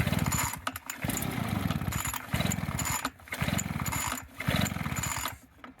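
A Titan petrol leaf blower's starter cord is yanked repeatedly, giving a series of rough, rapid ratcheting pulls with short pauses between them, close and fairly loud, with no talk.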